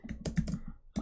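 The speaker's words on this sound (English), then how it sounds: "Let me finish typing." A short burst of rapid keystrokes clicks on a computer keyboard, close and clear with no talking.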